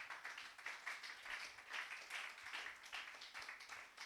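Church congregation clapping and applauding during a sermon, a steady, dense wash of many hands that continues evenly throughout without pause.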